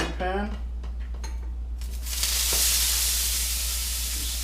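Loud sizzling from a hot pan swells into a steady hiss after a few brief clinks and a voice at the start.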